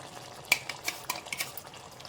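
Ground masala is stirred into chicken curry in a pan, giving soft scraping and clinking spoon strokes against metal, a few sharper taps in an irregular rhythm, close and fairly quiet.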